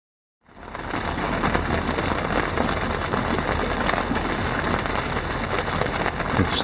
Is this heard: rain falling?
yes